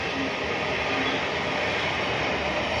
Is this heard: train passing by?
yes